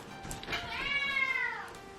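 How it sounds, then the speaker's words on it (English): A male house cat meows indoors in one long, drawn-out, rising-and-falling call, fairly close and clear, with no talking over it. "Excuse my cat, he's talking, he likes to talk."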